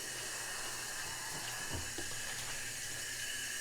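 Tap water runs steadily into a sink as denim jeans soak, a constant broadband hiss with faint splashing, no voices.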